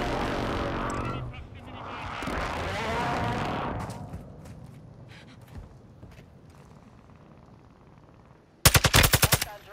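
Call of Duty: Modern Warfare II gunfire: a rapid, loud burst of automatic shots near the end, following a stretch of game noise and faint background sounds.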